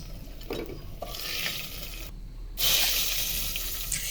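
Potato pieces fry in hot oil with a steady sizzle, interrupted by a brief pause and then a louder crackling burst as they are stirred and lifted into a bowl, close and without talk.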